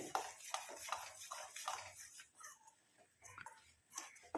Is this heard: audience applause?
no